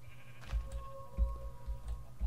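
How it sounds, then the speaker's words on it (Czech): Sheep bleat a few times in Minecraft, short nasal in-game calls over a low, bumpy background with no talking. "Ty hromada ovcí, hromada slípek."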